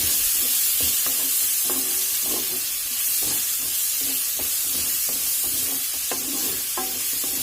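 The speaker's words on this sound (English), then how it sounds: "To that I will add my the tomatoes that I have cooked, and I will cook this till the tomatoes become soft." Tomatoes sizzle and fry in a hot pan for soyabean curry, a steady loud hiss broken by repeated stirring scrapes, close and without talk.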